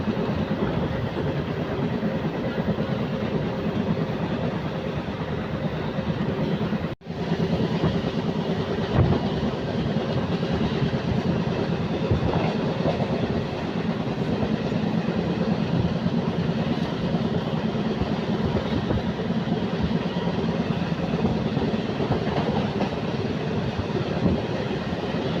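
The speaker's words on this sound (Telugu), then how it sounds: "ట్రైన్ అనేది 66 కిలోమీటర్స్ అయితే ట్రావెల్ చేసింది" MEMU passenger train running on rails, a continuous loud rumbling roar from onboard with a brief sharp dropout early on, no speech.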